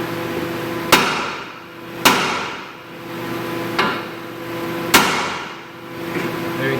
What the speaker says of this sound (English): see if I can knock this tie rod in without using the tool coil. A big sledgehammer.